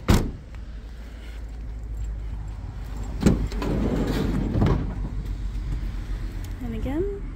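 The side door of a Volkswagen Transporter T5 1.9 PD TDi van is operated, with a few sharp clunks and a sliding rumble close by, while people talk.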